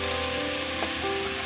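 Ginger garlic paste fries in a mix of oil and ghee for a Pakistani dhaba chicken curry, giving off a steady, dense sizzle and crackle that carries on alone without any voices.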